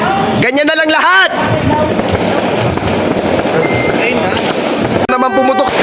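New Year firecrackers burst in loud, dense crackling volleys that go on for several seconds, with voices shouting excitedly at the start and end.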